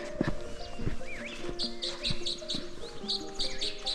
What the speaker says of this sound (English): I can hear a lot of birds